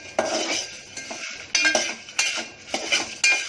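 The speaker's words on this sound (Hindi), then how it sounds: "अब मैं कूट रही हूँ" Repeated metallic clinks and knocks at an uneven pace as spices are pounded with a pestle in a mortar, with short pauses between strikes.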